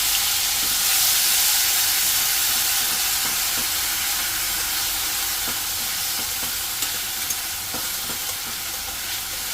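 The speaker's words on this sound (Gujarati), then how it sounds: "તો બસ હવે 1-2 મિનિટ આને ટામેટાને પણ એમ થોડું તેલમાં ફ્રાય કરી લઈશું" Crushed tomato frying in oil, a steady, loud sizzle and hiss throughout with faint scattered clicks from stirring.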